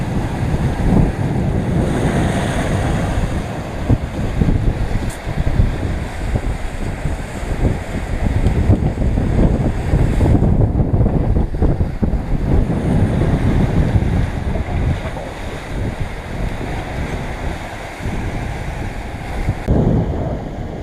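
Wind roars and waves rush around a sailboat surfing in 20 knots under a double-reefed main and jib on an open-ocean passage from New Zealand to Fiji, a loud, continuous broadband wash with gusty surges throughout.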